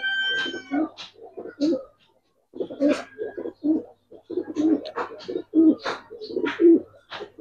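Giribaz silver lalpatti pigeons coo close by in rolling, repeated bursts with short pauses, loud and clear without talk.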